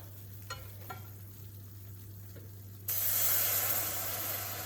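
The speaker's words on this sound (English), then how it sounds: "add the milk in. Yeah, that sizzle" A steady sizzle from a hot pan, jumping suddenly louder and hissier as milk is poured in for a creamy cheese sauce, with a couple of faint clinks before.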